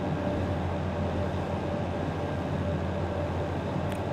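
Two locomotives strain under load in a train simulator game, a steady, dense rumble of engine drone and rolling rail noise that holds at an even level throughout, with no voices.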